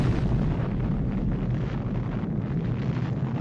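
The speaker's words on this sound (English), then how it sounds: "which started an irreversible set of events leading to the nuclear explosion." Little Boy, a 15-kiloton nuclear bomb, explodes with a deep, sustained rumbling roar that stays loud and dense with no pause.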